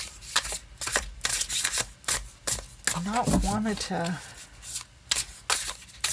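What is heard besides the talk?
shuffling a Crystal Tarot card deck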